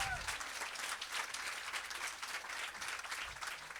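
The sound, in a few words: audience applause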